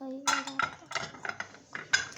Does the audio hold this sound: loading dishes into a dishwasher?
yes